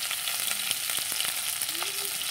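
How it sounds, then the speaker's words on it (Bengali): Potatoes sizzling in a hot pan with turmeric and salt, a continuous bright frying hiss with faint stirring scrapes and a few small tonal squeaks, close and steady. "আলুটা ভেজে নিচ্ছি"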